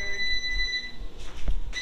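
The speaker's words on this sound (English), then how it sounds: "Her burrito is beeping." A thin, steady electronic tone sounds from a microwave heating a burrito, with a few soft clicks and thumps of handling around it.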